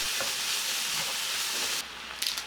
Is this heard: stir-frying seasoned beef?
yes